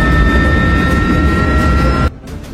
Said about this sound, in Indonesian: ikut dalam penerbangan mereka dengan menggunakan pesawat besar buatan Rusia